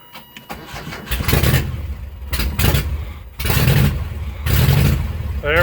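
A car engine cranks several times in bursts, its starter grinding and cutting out, before catching and running, close and loud, following battery desulfation and an unreliable ignition switch.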